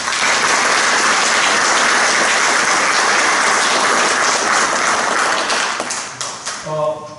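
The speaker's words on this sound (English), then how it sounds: "Please give these folks a welcoming round of applause." Audience applause fills a county political forum in Harris County, a dense, loud, sustained roar of clapping that holds steady for several seconds, then thins and tapers toward the end.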